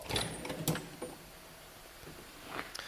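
A Snap-On toolbox trolley drawer being opened, with a few soft sliding scrapes and light metallic clicks near the start and again near the end, quiet and close with no talk.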